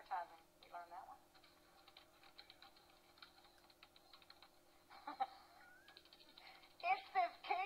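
Typing on a computer keyboard, close and quiet, with scattered key clicks in short bursts and a voice speaking briefly now and then.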